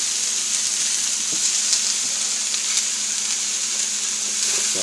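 Vegetables stir-frying in a hot pan, a steady bright sizzle with occasional faint clicks as they are tossed, close and with no talk.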